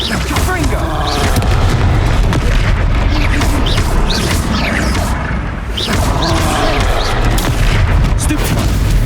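Loud, dense blast from the Confringo explosive spell in Hogwarts Legacy, booming and crashing continuously amid chaotic combat noise, with a voice calling out over the fight.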